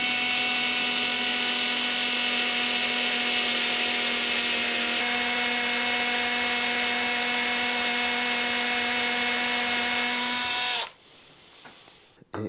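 A cordless drill grinds steadily into a very hard Stratocaster tremolo block with a 5mm bit, one loud continuous whine lasting about eleven seconds before cutting out abruptly, leaving quiet room noise.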